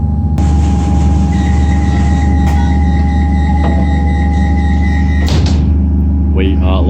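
A 331M-1050T-400M suburban electric train departs Watergardens station on Melbourne's Sunbury line, a steady loud onboard rumble with a held motor whine, a door thump midway and a brief squeal near the end.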